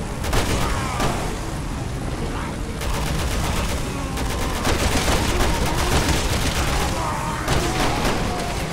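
Gunfire in Resident Evil 6, dense rapid bursts of shots and booms layered continuously throughout, loud and close with no pauses.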